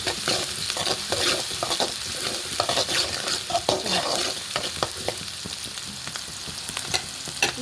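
Whole spices including a small cinnamon stick frying in hot oil for a restaurant-style paneer brinjal gravy, with a continuous crackling sizzle and frequent spoon scrapes and clinks against the pan, close and moderately loud.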